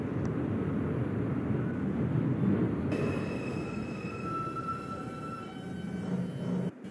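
Steady rumble of a New York City 5 local subway train, an R142, running along the line, loud and continuous with a faint squeal of wheels joining partway through.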